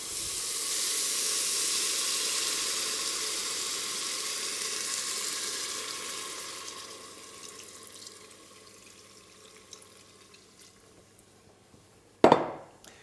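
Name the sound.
red wine added to a sizzling pan for sauce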